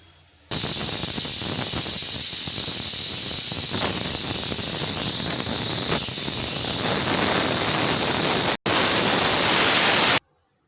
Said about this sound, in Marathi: मी याच्या चार ते पाच शिट्ट्या करून घेत आहे